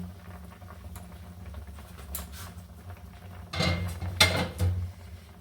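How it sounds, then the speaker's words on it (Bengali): A lid comes off a cooking pot of simmering paneer curry, giving a couple of light clattering metal knocks over a soft background hiss, fairly faint and close. "বন্ধুরা, তরকারিটা এবার একটু ঢেকে দিচ্ছি, ঢাকাটা খুলে নিচ্ছি।"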